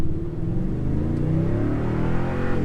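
A 2020 Toyota Tundra TRD Pro with a six-speed automatic accelerates hard from 0 to 60, its engine note climbing steadily in pitch through a loud, close, sustained run.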